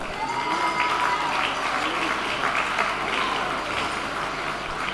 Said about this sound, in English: So a big applause for the women of Asia.